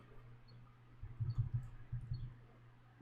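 Keyboard typing while entering C# console code: a short, quiet burst of soft clicks and clacks with a brief pause, over a steady low electrical hum and no talk.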